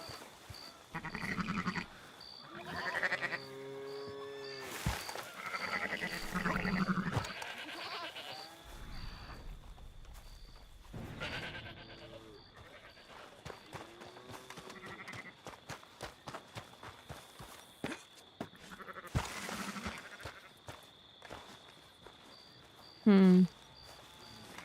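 Goat bleats from Red Dead Redemption 2, several wavering cries scattered through the first half amid game sounds and background talk, with a sharp loud burst near the end.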